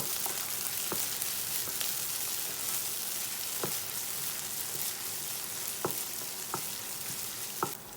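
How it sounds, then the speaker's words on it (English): Ginger garlic paste frying in oil in a pan while cooking a drumstick and potato curry, a steady close sizzle with a few sharp clicks and taps of stirring, no talk. "we will add 1 tablespoon of ginger garlic paste, and we will just cook it for a minute"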